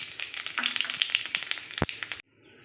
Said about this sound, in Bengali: দিয়ে দেবো জিরে আর তেজপাতা ফোড়ন।